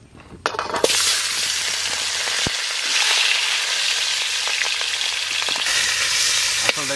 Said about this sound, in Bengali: কড়াই তো গরম হয়ে গেছে, এখানে দিয়ে দেবো ইলিশ মাছ ভাজার জন্য সর্ষের তেল।